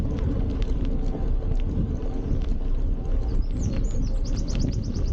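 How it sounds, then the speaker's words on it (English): Birdsong and chirps rise over steady low rumble and wind while cycling outdoors with a handlebar-mounted camera, the tweets becoming clearer and more frequent toward the end, fairly faint against the road and wind noise. "Lots of birds tweeting on and twiddling about."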